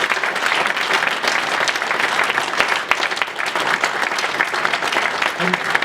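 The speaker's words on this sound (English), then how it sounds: "I think we should all give them a massive round of applause for getting this far." A crowd at a Show Racism the Red Card event at West Ham gives children a loud, sustained round of applause, dense clapping filling the space without pause.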